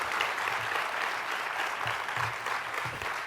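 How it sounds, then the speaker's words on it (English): Live audience at an NJEA 2021 educators' convention applauding steadily, a broad sustained wash of clapping at moderate level throughout with no voices. "Let's give yourselves a big round of applause for everything that you do."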